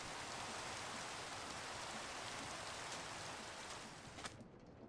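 Steady rain falls in a video game, a dense even hiss of drops on surfaces that fades slightly near the end, with no voices.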